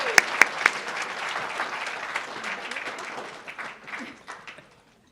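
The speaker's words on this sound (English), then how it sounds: "let's have a warm round of applause for Maria." A warm round of applause from a business forum audience, fairly soft and moderately distant, with a few sharp individual claps at the start before the clapping thins out and dies away.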